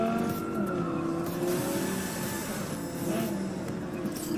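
A car drives in the Cyberpunk 2077 video game, a steady engine drone with tire squeals and revving under game effects, loud and continuous throughout.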